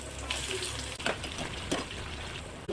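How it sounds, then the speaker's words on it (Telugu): Cumin and seeds sizzle in hot oil in a pan, a steady loud crackling hiss broken by a couple of sharper pops and scrapes. "నూనె కాలు గింజలు కొంచెం జీలకర్ర వేసుకుంటాను."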